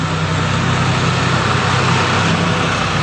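A tractor engine runs loud and close as a steady, unbroken low drone with a rough mechanical rumble, with no voices over it.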